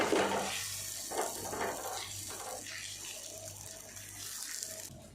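Adai batter patted by hand onto an oiled hot tawa, giving soft wet slaps and a faint sizzle, close and quiet with a low steady hum beneath.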